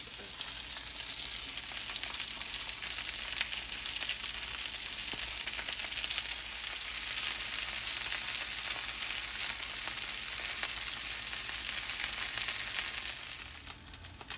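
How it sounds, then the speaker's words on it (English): Onions simmer and fry in butter with parsley alongside schnitzel, giving a steady, close sizzle that holds at an even level throughout with a few stirring scrapes, then fades slightly at the very end. "I throw a couple onions in there now, butter and parsley. Let it simmer there a little bit."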